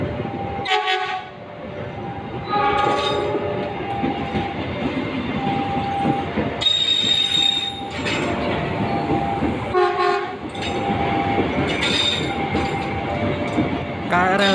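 KRL Jogja–Solo electric commuter train in Indonesia running along the track, with steady rolling rail noise, wheel clatter and repeated horn blasts, loud and close throughout.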